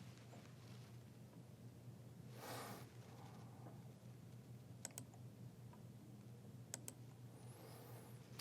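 Soft, quiet computer keyboard typing with scattered light key clicks while a route path is entered during web app development, sitting over a low steady background hum.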